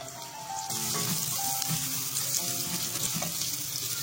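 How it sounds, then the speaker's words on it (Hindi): Onions dropped into hot cooking oil in a pot sizzle and crackle steadily, a close, moderately loud frying hiss that swells slightly after the first moment and carries on unbroken. "इसमें प्याज शामिल करते हैं।"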